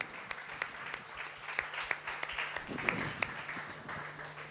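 A church congregation claps and applauds in praise during a worship service in Delhi, a steady wash of many hands with sharper individual claps standing out, moderately loud and continuous.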